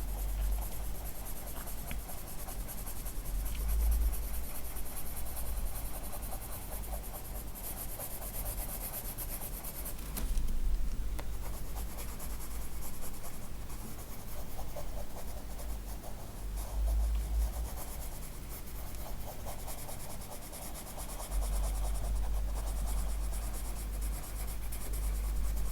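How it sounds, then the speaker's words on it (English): A colored pencil scratching and rubbing across the paper of an Outlander colouring book while skin tones are shaded, a continuous close papery scraping with strokes that swell and fade, steady and alone for the whole stretch. "So I'm gonna take a pencil I used for skin tones as well."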